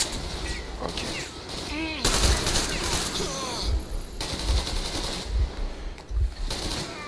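Gunfire in the video game Metro Exodus: rapid bursts of automatic shots that come in clusters with short pauses, over a busy background of game sounds.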